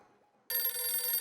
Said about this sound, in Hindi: ओहो, अभी सोडी का फोन।